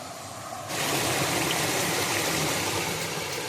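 River water flowing, a steady broadband rush that swells louder after a brief quieter start and then holds constant, close and with no voices.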